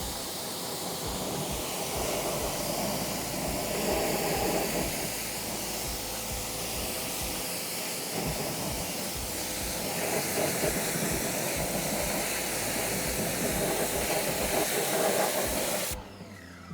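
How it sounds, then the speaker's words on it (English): A hose or pressure washer sprays water over a car tire and its pitted rim in a continuous loud hissing rush that lasts the whole time and shifts slightly as the spray moves, cutting off abruptly at the end. "Give it a nice thorough rinse"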